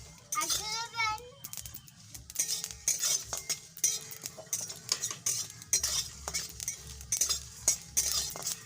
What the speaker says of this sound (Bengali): হালকা করে ভাজবো বেশি ভাজবো না